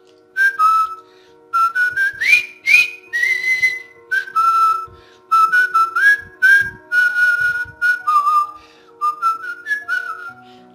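Whistled rendition of the famous theme melody from The Bridge on the River Kwai, a single clear whistler carrying a march-like tune in short bouncing phrases, close and alone with no talk.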